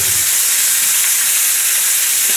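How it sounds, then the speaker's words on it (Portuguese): Potatoes frying in a pan for baked salt cod with onions, a steady, even hiss of hot oil sizzling close up throughout, with no talking over it. "temos as nossas batatinhas a fritar um pouco"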